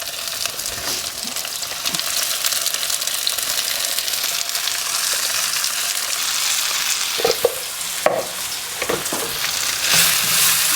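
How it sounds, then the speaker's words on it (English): Tofu and vegetables searing over a high flame in a hot pan, a steady loud sizzle throughout with occasional stirring scrapes and clatters near the end. "flame so that the pan gets really hot and we can get a little bit of searing on the edges of the vegetables"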